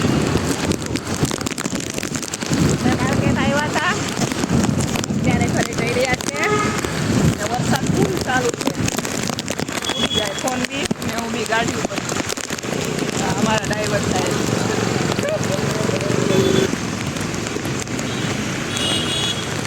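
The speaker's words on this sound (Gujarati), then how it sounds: "પવન સાથે જોરદારનો વરસાદ ચાલુ છે" Heavy rain hammers down steadily in Rajkot while wind buffets the microphone, and someone talks over the downpour throughout.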